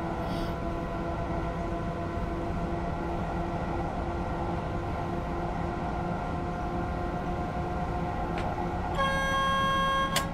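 Simulated TGV Duplex train on the Marseille–Avignon line in Train Simulator, a steady engine and rail drone throughout, then a loud, sustained horn blast near the end.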